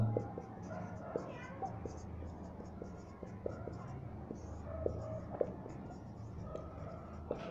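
Someone writes on a board, with a steady run of small tapping and scraping strokes at close range over a faint murmur of voice.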